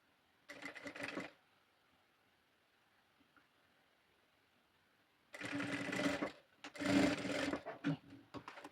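A sewing machine stitches a flamingo toy, with a short motor burst near the start, a pause, then a longer stretch of close, steady machine running near the end.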